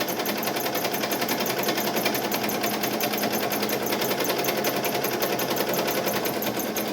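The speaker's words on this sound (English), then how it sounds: "So now both machines are running at the same time." Two embroidery machines stitching with white thread run together, giving a steady, fast, even mechanical chatter that stays close and constant throughout.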